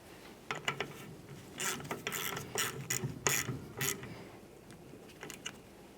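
Ratchet clicks tightening a brake hose fitting on a 1999-2006 Chevrolet Silverado 1500, coming in irregular bursts of close, crisp pawl clicking with short pauses between strokes and no talk.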